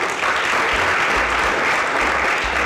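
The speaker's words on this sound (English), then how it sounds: "Can I hear a round of applause, please?" A round of applause rises from the audience at a STEM masterclass in Nairobi, a loud, dense and steady clapping that fills the room without a break.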